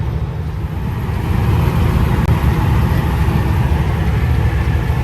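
A semi truck's engine pulls hard up the Whitmore grade toward Nyack in winter, a steady, loud, low diesel drone that holds its strain the whole time with no break.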